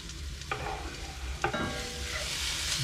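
Chopped vegetables drop into a pan over frying onions and chillies, two clattering tumbles landing into a soft, continuous sizzle, near and moderately quiet.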